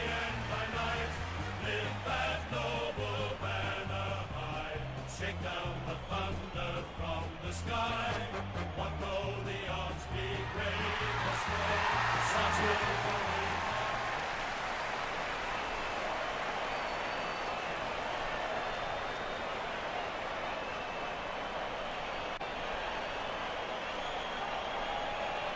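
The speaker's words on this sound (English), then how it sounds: "The Swans lifted by the noise of the crowd as they make their way onto the ground." A stadium crowd roars as the Swans football team runs onto the ground, a broad, steady wash of cheering that builds over loud music with a beat before taking over for the rest of the clip.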